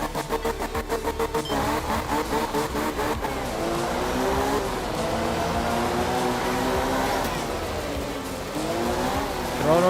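A rally car in Art of Rally at full throttle, opening with a choppy pulsing idle before the engine screams into a sustained high-revving roar with shifting pitch, loud and close throughout.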